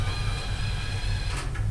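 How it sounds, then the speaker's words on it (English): An Evolis Zenius ID card printer feeds a card back and forth, a steady low mechanical hum and whir with a couple of short sliding clicks near the end, close up. "That'll take it back and forth through the printer real quick, and it'll eject it back out of this slot."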